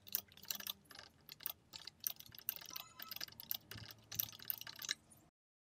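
Quick, irregular bursts of keystrokes on a computer keyboard, close and fairly quiet, with brief pauses between runs of typing before the sound cuts off.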